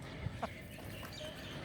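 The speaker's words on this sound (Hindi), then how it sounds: "ये देखें देसी मुर्गियाँ" A couple of soft, brief clucks from nearby desi chickens kept in a small backyard space, over a low, steady outdoor background.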